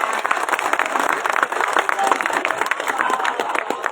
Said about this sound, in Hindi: मैं चाहता हूं एक मरतबा आप अपने लिए ताली बजाएं।